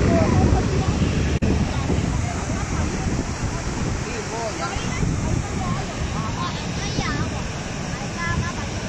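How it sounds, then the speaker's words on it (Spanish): The flooded Choloma river rushing hard, a loud, constant roar of churning water close by, with wind buffeting the microphone and faint voices mixed in. "Este es el río Choloma."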